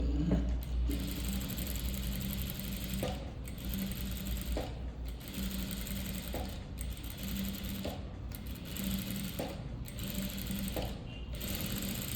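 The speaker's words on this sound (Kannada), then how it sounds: "ಇದೇ ಥರ ಇಲ್ಲಿಗೂ ಸ್ಟಿಚ್ ಹಾಕ್ಕೊಳ್ಳೋಣ" A sewing machine runs steadily, stitching thread piping along a boat neckline, its motor whirring in repeated bursts with brief pauses between runs, close and fairly loud with no talk.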